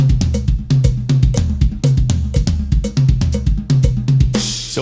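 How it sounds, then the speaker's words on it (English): Drum kit played in a steady sixteenth-note right hand, left hand, kick pattern as a rudiment exercise, a dense run of close, loud strokes mixing sharp bell-like hits with low kick thumps and no voices. "All I'm playing is right, left, kick the entire time."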